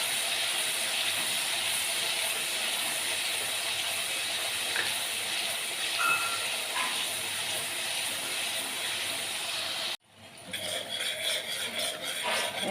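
Onions cooking in a pan while being stirred for rajma, a continuous close hissing sizzle with faint scraping, which breaks off abruptly and then resumes more softly.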